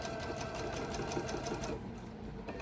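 A sewing machine stitches a quilt block in a rapid, steady mechanical run that fades out near the end, close and fairly quiet.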